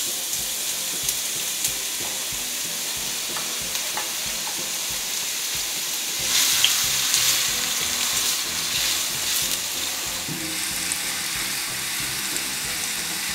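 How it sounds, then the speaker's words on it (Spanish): Steady crackling sizzle of onion frying in oil over moderate heat for ham croquettes, with occasional clinks and stirring sounds rising in the middle. "vamos a ir añadiendo la cebolla al aceite."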